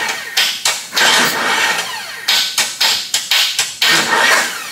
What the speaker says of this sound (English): Here, turning the motor over.